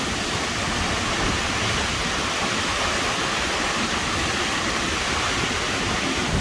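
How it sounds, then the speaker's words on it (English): Iceland waterfall heard from behind the falling curtain of water, a dense, steady roar of broadband noise, loud and unchanging throughout with no voices. "We are behind a waterfall."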